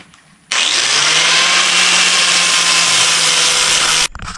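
An angle grinder grinds a steel plate flush with a vise in a fabrication shop, a loud steady whine running unbroken for several seconds before cutting off.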